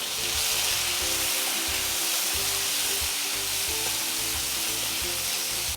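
Onion and tomato fry in a pan for pumpkin kulambu, giving a loud, continuous close-up sizzle with faint music underneath.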